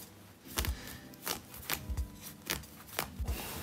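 Scissors cutting through a used sweatshirt, heard close up as a series of crisp snipping strokes, about eight cuts in an uneven rhythm, with no talking.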